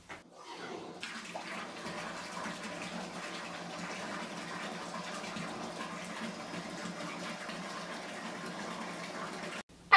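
A bathtub filling from the tap gives a steady, close rush of running water that holds constant for several seconds and then cuts off abruptly near the end.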